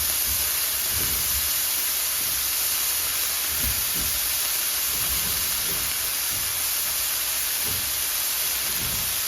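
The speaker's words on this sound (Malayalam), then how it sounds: "അതിലേക്ക് നമുക്ക് അതിൽ വെച്ചിരിക്കുന്ന കാബേജ് ഇട്ട് കൊടുക്കാം" Shredded cabbage goes into a hot pan with green chili for a cabbage and carrot thoran, making a steady, even hiss throughout with faint low knocks underneath and no speech.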